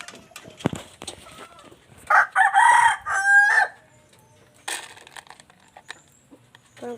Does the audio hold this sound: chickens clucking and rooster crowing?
yes